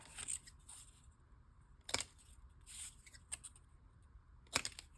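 Scissors cutting paper flips for a junk journal, a few sharp snips with soft rustling between them, close and quiet, with no talk.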